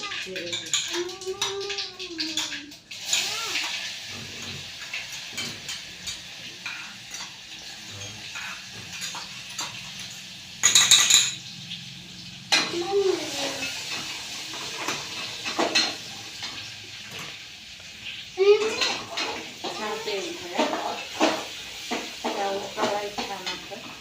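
Garlic roasting in oil with mustard seeds and cumin in a pan, a soft background sizzle with occasional stirring clinks, under bursts of nearby talking.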